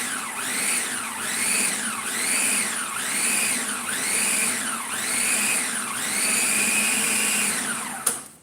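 Blender pulsing chopped dairy-free dark chocolate, a loud whining motor rising and falling in about six regular surges with no talk.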